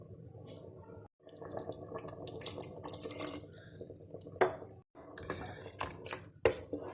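Half a glass of water runs and splashes into a metal pressure cooker holding meat for several seconds, with brief pauses and a few clinks, close and moderately loud.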